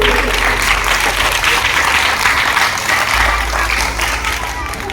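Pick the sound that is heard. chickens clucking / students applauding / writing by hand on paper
students applauding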